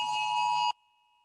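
A mobile phone ringtone goes off during a police commission meeting: one steady electronic tone, fairly loud and close, lasting under a second before it cuts off abruptly into near silence.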